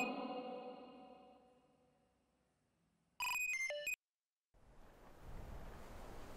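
A phone ringtone plays in a short loud burst of electronic tones, preceded by a fading tone and followed by steady hissing noise.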